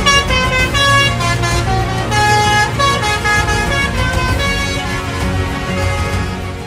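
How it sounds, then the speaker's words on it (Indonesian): Indonesian bus telolet horn plays a loud, melodic tune of sustained, shifting pitched toots, up close and continuous over a background of road vehicle noise. "Klakson ini mampu memainkan nada atau potongan lagu yang dapat menarik perhatian banyak orang"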